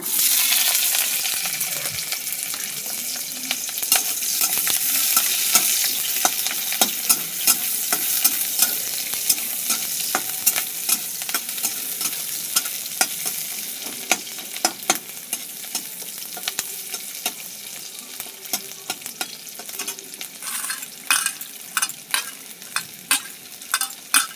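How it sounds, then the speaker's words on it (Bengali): Garlic, green chili and onion fry in fish oil seasoned with salt and turmeric for a bitter gourd dish, with a steady close sizzle broken by frequent sharp clicks and scrapes of stirring. "রসুন, কাঁচা লঙ্কা, পেঁয়াজ ভাজা হচ্ছে।"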